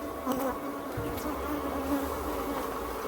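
Honey bees buzz steadily around old hive frames in an apiary, a dense, continuous drone that stays close.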